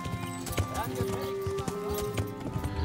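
Horse hooves clip-clopping in Kingdom Come: Deliverance as a rider mounts, the steps steady and close, with a brief whinny, under someone talking over game music.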